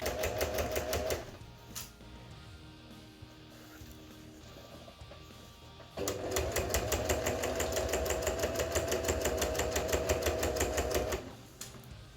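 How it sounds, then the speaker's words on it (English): A sewing machine runs in fast, even bursts while stitching the edge seam of a quilted gambeson fauld, its rapid needle clatter loud and close, with a quieter pause in between. "I am sewing the edge seam"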